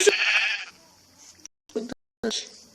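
Sheep in the video game Minecraft giving a short synthetic bleat up front, followed by a few brief clipped game sound effects separated by silence.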